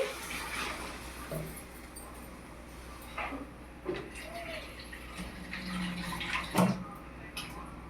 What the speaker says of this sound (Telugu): మటన్ ఉడికించుకున్న నీళ్ళు పోస్తున్నానండి